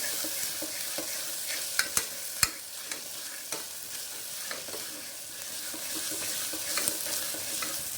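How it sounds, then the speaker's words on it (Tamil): Ingredients sautéing in a pan, a steady close sizzle broken by scattered sharp clicks and scrapes of stirring, with no talk. "நல்லா வதக்கிடலாம். ஒரு 2 நிமிஷம் வதக்கலாம்."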